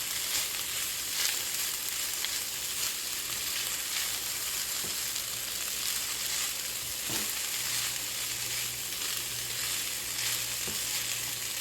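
Carrots frying with rice in a pan for vegetarian fried rice, a steady dense sizzle close by that holds evenly throughout, with a few faint stirring scrapes and no talk.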